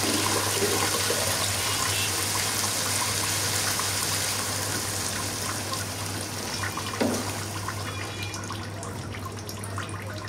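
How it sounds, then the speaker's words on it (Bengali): Broth water being poured into a cooking pot of vegetables: a continuous splashing, rushing pour of liquid with a steady hum underneath, sustained and fairly close, no voices. "এখন এখানে আমি ঝোলের পানি অ্যাড করব।"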